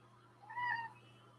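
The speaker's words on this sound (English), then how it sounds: "Now my cat wants attention." A male house cat gives a single short, faint meow for attention near an artist's desk during comic lettering and inking, rising briefly out of a quiet room with a steady low hum.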